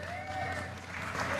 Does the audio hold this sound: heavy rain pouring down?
no